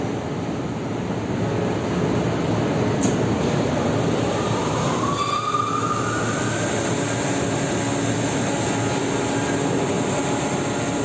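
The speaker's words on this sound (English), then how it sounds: "First, start the emergency fire pump room supply fan and then start the emergency fire pump." A motor-driven emergency fire pump runs in the pump room on board a ship. A loud, steady machinery roar holds throughout, with a faint rising whine partway through and no voices.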